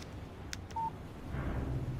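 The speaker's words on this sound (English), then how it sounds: "Text message from Barry" A phone in the Alan Wake video game chirps a text-message notification, a short electronic tone followed by a brief clean beep, faint over a low ambient hum, with no speech.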